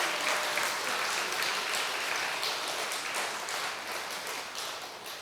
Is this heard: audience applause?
yes